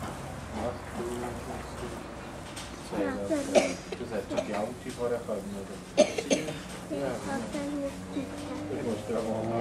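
A cow in labour gives a couple of sharp, rough coughs a few seconds apart, partly buried under people talking close by throughout.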